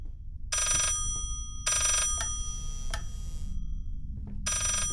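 Reversed telephone ringing in the Layers of Fear horror game: four loud bursts of swelling electronic ring tone with sharp clicks between, over a steady low hum, no talking.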